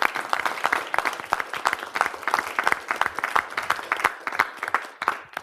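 Audience at a city council meeting clapping steadily, a dense run of individual hand claps from a modest room crowd, fairly close and sustained throughout with no talking over it.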